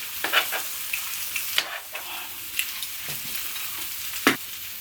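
Vegetables stirred on a sizzling grill, steady hiss and crackle of frying with irregular scraping and clinking of the utensil, close and clear with no talk.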